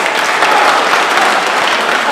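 Steady, loud applause from a crowd at an adult handball semi-final, continuous dense clapping throughout with no pauses.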